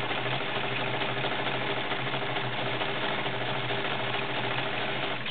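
A Kenmore 1750 heavy-duty sewing machine sews a stretch zigzag stitch, its motor humming steadily with a rapid, even needle clatter up close and no voices over it.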